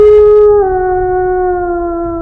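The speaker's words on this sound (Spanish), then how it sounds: "El aullido del mexicano retumbó en cada muro de la capilla con su eco" A werewolf howls once, a loud, long sustained note that dips in pitch partway through and then holds steady, echoing as if inside a chapel.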